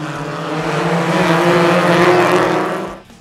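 Race cars on a circuit track roar past loudly with strong engine harmonics, the sound swelling and holding before fading off sharply at the end.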